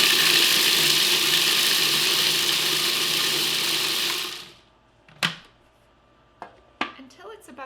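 A food processor pulses a mushroom, nut and oregano mixture: a loud steady whirring burst of about four seconds cuts off sharply, followed by a few short knocks and clatters of the machine.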